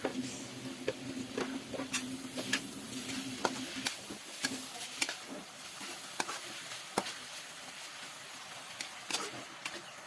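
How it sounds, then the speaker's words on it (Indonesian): Spice paste sizzles and crackles as it is sautéed in a pan, with steady frying hiss broken by sharp ticks and scrapes of stirring, close and fairly quiet with no talk. "di sini aku mau numis bumbu yang tadi"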